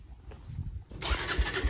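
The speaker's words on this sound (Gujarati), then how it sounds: "તો બાઈક સ્ટાર્ટ કરી દીધું" Quiet low rumbling, then a motorcycle engine suddenly catches and roars into a loud, steady running sound, close by.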